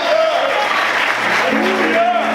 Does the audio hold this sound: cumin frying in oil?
no